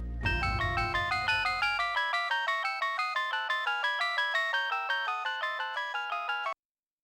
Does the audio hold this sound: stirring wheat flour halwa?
no